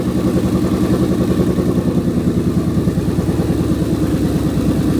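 A Ford Mustang engine idles after a JLT intake and throttle body swap, giving a steady, loud low rumble with a fast even pulse and slight clatter, close by and with no talking.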